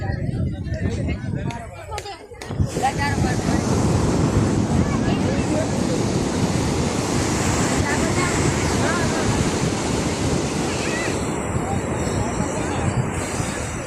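Continuous roar of sea waves washing in at Somnath beach, with wind buffeting the microphone and a person talking at the start.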